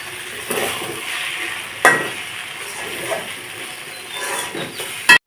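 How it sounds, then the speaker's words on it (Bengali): Egg noodles being stirred in a frying pan with fried eggs mixed in, a steady close sizzle broken by a few sharp clinks of a utensil against the pan. "ভেজে রাখা ডিমগুলোকে দিয়ে আবার খানিকক্ষণ নেড়ে নেব"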